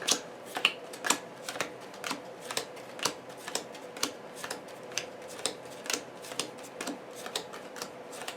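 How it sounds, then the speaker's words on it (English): A deck of game cards for a tabletop card game being shuffled, with a run of crisp, close riffling clicks and snaps repeating in a fairly steady rhythm. "And I'll shuffle my deck."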